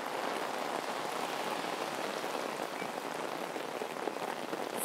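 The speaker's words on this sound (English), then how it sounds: "Started raining really hard" Dense, steady downpour of heavy rain pattering on a street in Geylang, Singapore, a loud continuous hiss with no voices.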